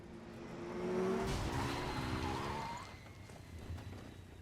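A motorcycle in the video game Enslaved skids with a rising engine whine and a squealing tire slide that peaks early and fades, moderately loud, with no talking.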